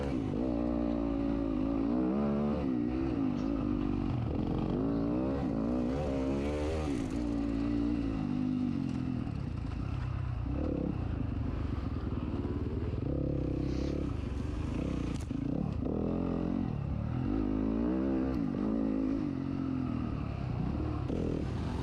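Motocross dirt bikes, including a 2019 Yamaha YZ450FX, race at a cross-country event, engines droning and revving continuously throughout, with rattling and scraping mixed in.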